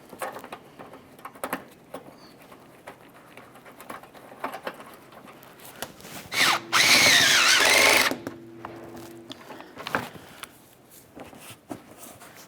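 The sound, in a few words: power tool snugging up bumper mounting bolt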